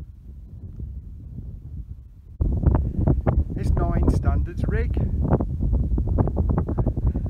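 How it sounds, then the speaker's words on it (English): Wind buffets the microphone with a steady low rumble, growing stronger partway through as a person speaks over it outdoors on the Coast to Coast trail between Kirkby Stephen and Keld. "It's a bit windy."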